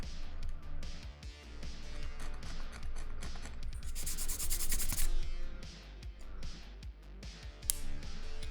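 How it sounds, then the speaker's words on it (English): Something scuffs and scrapes over a surface nearby in steady, uneven strokes under a light background hum, with a louder scratchy burst partway through. "what I can do is I can scuff these up kind of bigger to match"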